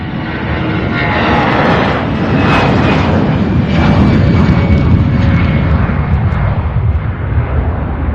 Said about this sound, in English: There's another MD-11 pushing back right here